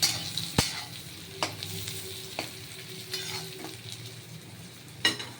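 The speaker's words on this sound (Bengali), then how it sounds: "আধা ভাজা করেছিলাম আর একটু ভাজা করছি" Pieces of pre-fried potato and onion sizzle in hot oil in a pan, a steady crackling hiss broken by several sharp scrapes and taps of a stirring spoon, heard close and without talk.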